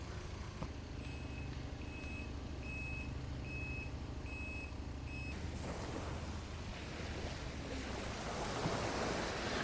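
Building-works vehicle reversing beeps at Magaluf Beach, Majorca, a steady string of faint distant beeps under loud surf and wind noise, with the beeping stopping partway as waves and wind take over.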